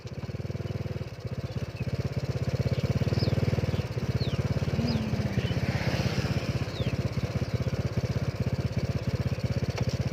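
A motorcycle engine, with a freshly replaced racing clutch, runs steadily at close range, its pulsing drone shifting pitch as gears are snapped through in quick, aggressive changes.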